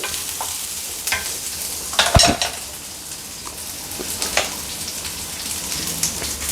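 Onions are stir-fried in a pan, with a constant crackling sizzle broken by scraping stirs and a few sharp clanks of a utensil against the pan.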